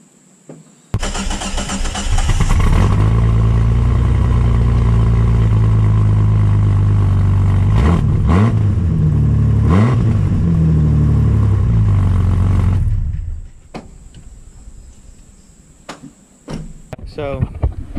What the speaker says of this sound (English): I cut the muffler off. And you're about to see what it sounds like without a muffler.